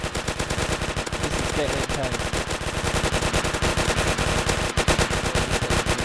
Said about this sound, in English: I'm just sitting here like a boss shooting.